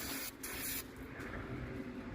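Carburetor cleaner hisses in a continuous pressurised spray from an aerosol can while a Ford 302 small-block engine with a tunnel ram intake is being worked on, close and steady with a brief break, no talking.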